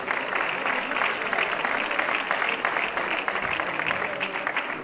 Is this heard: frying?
no